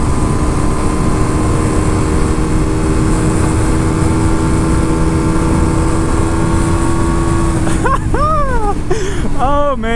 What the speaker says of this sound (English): we're in sixth gear, got plenty of passing power to get around all these people